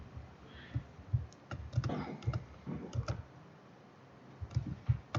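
Scattered keystrokes on a computer keyboard, someone typing HTML in an irregular patter of light clicks, fairly quiet with no talking.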